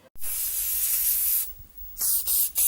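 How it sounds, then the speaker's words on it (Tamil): A micro finish makeup fixing spray hisses onto a sponge in two close bursts: a long spray of over a second, then a shorter one after a brief pause. "அடுத்தது பேக்கோட மைக்ரோ ஃபினிஷ் மேக்கப் பிக்சர் எடுத்துக்கிறேன். எடுத்துட்டு என்னோட ஸ்பஞ்சில் ஸ்ப்ரே பண்ணிக்கிறேன்"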